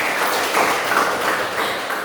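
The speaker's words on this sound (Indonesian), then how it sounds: "Oke, tepuk tangan dulu untuk Esther." Classroom applause for a student, a short, steady patter of many hands clapping together at moderate loudness, with no talk over it.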